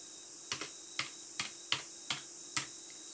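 Keys tapped on a computer keyboard, six or seven separate sharp clicks spaced about half a second apart, close and clear against a quiet room.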